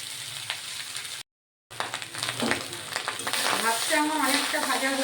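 Cooked rice sizzles and crackles in a hot pan for vegetable fried rice, with spatula scrapes and stirring over a steady frying hiss after a brief silent gap.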